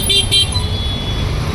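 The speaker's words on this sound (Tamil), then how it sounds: "பயங்கர டிராஃபிக்." Heavy road traffic in Banjara Hills, Hyderabad: a dense, steady roar of engines and tyres close by, with two quick car-horn toots near the start.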